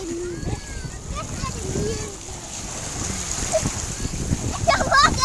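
Water splashes in irregular bursts and splatters, some sharp and close, under a backdrop of voices including someone speaking.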